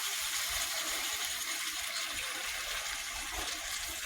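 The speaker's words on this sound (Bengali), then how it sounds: "ঝোলটা দিয়ে দিলাম" Broth being poured into a pan of fish curry with ash gourd, a steady continuous splashing liquid gush heard close up and fairly loud throughout.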